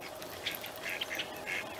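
Mallard ducks quacking near a bird feeder before sunrise, several faint, distant quacks scattered over steady outdoor background noise.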